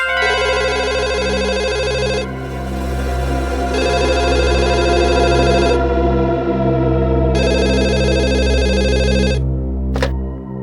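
A telephone rings in repeated bursts over a low background drone, with a short sharp click near the end.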